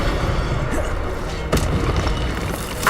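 An Incendio fire spell cast in Hogwarts Legacy on PS5: a single booming burst of flame rises out of a steady rumbling game background and fades quickly.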